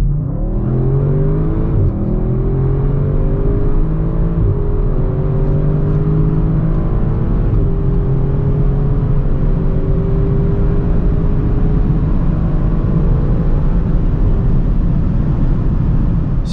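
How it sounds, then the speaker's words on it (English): An Audi RS6 accelerates hard from 100 to 200 km/h, heard from inside as a loud, sustained engine drone climbing steadily in pitch, with gear changes briefly dipping the tone in the first couple of seconds, alongside road and wind roar. "So let's now see how fast the car goes from 100 to 200."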